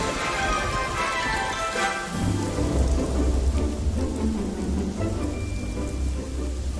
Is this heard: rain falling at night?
yes